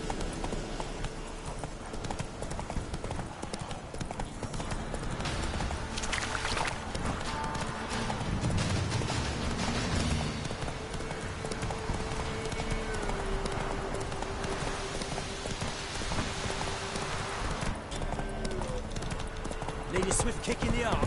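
A horse gallops in the Witcher 3 video game, with continuous rhythmic hoofbeats mixed with game ambience and a low background tone, loud and steady throughout.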